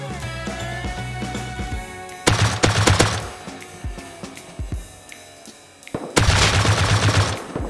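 M2 machine gun fire in the Rust video game rattles in long, loud automatic bursts, separated by shorter gaps of scattered single shots.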